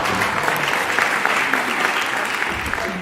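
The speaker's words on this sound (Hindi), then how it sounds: "जो बुद्धिमान अपने आप को समझता हो वो ताली बजाए।" Sustained applause from a live audience at a Hindi poetry recital fills the stretch, dense steady clapping, loud and continuous throughout.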